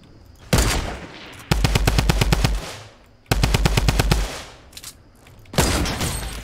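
Automatic gunfire in a shooter video game, several loud rapid bursts of machine-gun fire separated by short pauses, with a few single shots mixed in.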